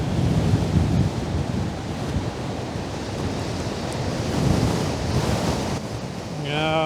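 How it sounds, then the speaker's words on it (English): Strong, steady wind roars and buffets the microphone beside the surf at Fort Worden in Port Townsend during a storm, a loud continuous rush with gusts swelling and fading throughout and a brief tonal sound near the end. "it's just crazy windy out here"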